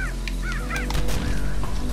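Cartoonish bird honks from the video game Albert and Otto, several goose-like calls in quick succession, loud and close over a steady game background hum.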